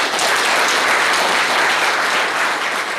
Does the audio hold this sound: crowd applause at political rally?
yes